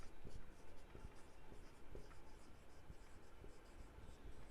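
Pen scratching on paper while an accounts problem is written out, a soft, steady run of small strokes and taps, faint and close, with no speech over it.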